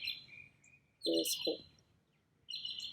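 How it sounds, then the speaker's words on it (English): Small birds chirp and tweet in high repeated calls, clear and fairly close, with a brief spoken phrase interrupting them in the middle. "listen to the birds"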